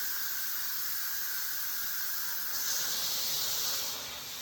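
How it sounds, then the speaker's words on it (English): Hot steam hissing steadily out of a cooking pot of boiling pasta water for homemade mac and cheese, a continuous broadband rush that swells louder midway then eases slightly, with no talking. "So I usually just slowly release the additional steam."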